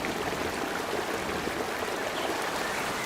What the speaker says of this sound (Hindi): घोंसला बाढ़ की पानी में बह गया